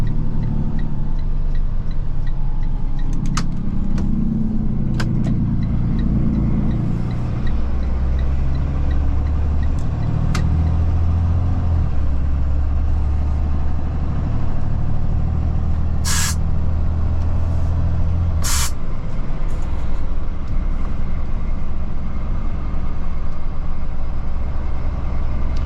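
Steady road and engine rumble from a car cruising along a ring road in Calgary near Mount Royal University, continuous and fairly loud, with a couple of brief high-pitched squeals partway through.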